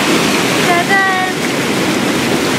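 Water falls from a waterfall on a Plitvice Lakes trail in Croatia onto feet used as a foot shower, making a steady, loud, close rushing splash with a brief voice-like tone early on.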